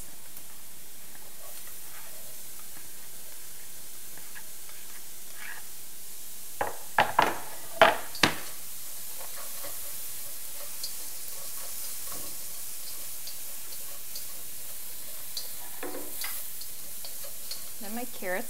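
Chopped onions, added after shallots and garlic, sizzle in a hot pan: a quiet, steady frying hiss throughout, broken by a cluster of sharp clattering stirs in the middle and a few light ticks later.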